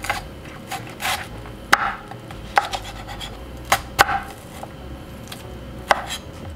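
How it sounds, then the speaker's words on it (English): An onion being chopped with a Buffalo Cookware chopper knife on a board, sharp irregular knife strikes landing every second or so, fairly close, with faint rustling between the cuts. "Let's continue chopping the onion to show you guys how well it works."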